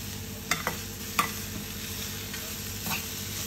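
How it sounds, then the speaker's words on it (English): Grated coconut roasting in a pan for a Mangalore-style crab curry masala, with a few sharp scraping stirs over a steady low background hiss; no voices. "Now add 1 cup of grated coconut and you're going to roast it for extra 2 minutes"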